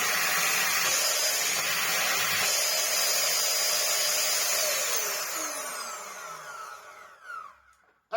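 A Shark Navigator vacuum cleaner runs loud and steady with a broad whooshing roar, then winds down over the last few seconds as the motor pitch falls away into near silence.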